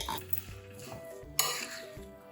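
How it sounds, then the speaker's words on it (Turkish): A spoon mixes salt into onion in a bowl with hot water, giving faint scraping stirs, light clinks of metal on the dish and one sharper knock, close and quiet. "Kaşıkla şöyle bir karıştıralım, eşit şekilde dağılsın"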